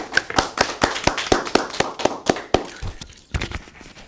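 Handclaps from a seated audience greeting a presenter at an international law scholars' conference, a few sharp claps that thin out over a few seconds, close and moderately loud.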